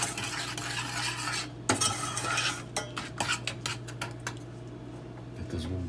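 A utensil scrapes and stirs a thick cake mixture inside a pot over a low background hum, with clinks and short scraping strokes near the end.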